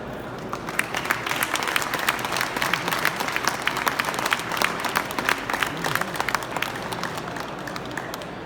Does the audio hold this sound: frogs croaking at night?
no